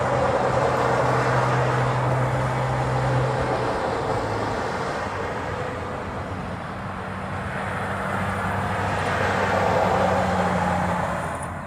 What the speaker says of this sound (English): he is back taxiing down the runway